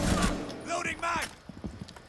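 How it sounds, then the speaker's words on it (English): A gun magazine is reloaded in an online shooter video game. Brief mechanical clacks and clicks come in quick succession after a burst of voice chatter from players. "Loading mag!"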